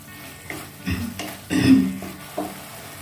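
Egg posto sautéing in oil until the oil separates, with soft sizzling and a few scraping stirs of the spoon through the thick paste, quiet and close.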